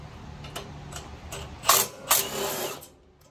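Ratchet wrench clicking while loosening the 17 mm brake caliper bolts on a 2010 Toyota Sequoia's front brakes, with a few brief bursts of quick clicks and a louder stretch near the end, close and fairly quiet.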